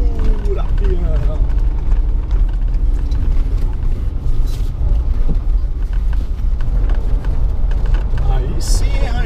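A Ford Ranger Limited V6 pickup drives off-road, its engine giving a steady, loud low roar throughout, with wind and rough-terrain rumble mixed in and someone talking excitedly over it.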